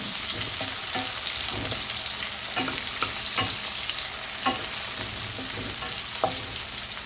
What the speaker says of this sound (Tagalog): ilagay na natin ang sibuyas.